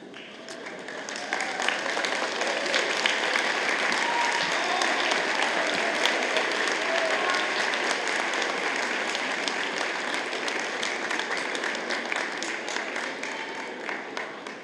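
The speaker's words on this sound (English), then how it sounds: "give them a round of applause as your thanks" Sustained applause from a standing convocation audience thanking their families, a dense wash of many hands clapping steadily for about fourteen seconds in a large hall, swelling early and tapering slightly at the end.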